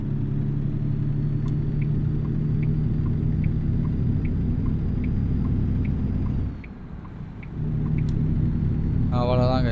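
A truck engine in 8th gear in the video game American Truck Simulator, a steady low rumbling drone with faint periodic ticks, briefly dipping quieter before resuming, with a short electronic chime near the end.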